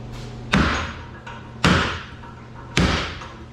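Three heavy metallic hammer blows on the exhaust of a 1961 Cadillac, each a sharp clanging strike with a ringing decay, spaced about a second apart and close by.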